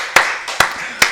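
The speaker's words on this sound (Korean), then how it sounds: "우리 박수로 하나님께 영광 드리겠습니다" A congregation at a Korean Wednesday church service claps in unison: three strong, evenly spaced beats over a steady wash of crowd noise.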